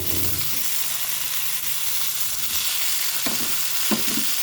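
Tomatoes going into a hot pan of frying eggplant, a steady loud sizzle with a few soft stirring scrapes and clinks near the end.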